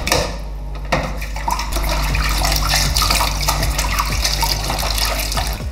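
A Dyson vacuum part is swished and rinsed in water, giving continuous close splashing and sloshing with small gurgles and a steady running-water wash underneath, no speech.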